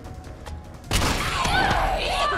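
A shotgun blast in the video game Resident Evil 3 Remake, one sudden loud boom partway through followed by a ringing, echoing tail over game ambience.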